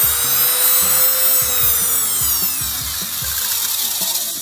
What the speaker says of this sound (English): It's just Sears Best Craftsman rotary tool, and it's Dremel.